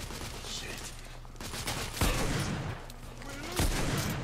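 Gunfire from the video game The Order: 1886, with heavy booming shots landing around the two- and three-and-a-half-second marks over a constant roar of battle noise, loud and close.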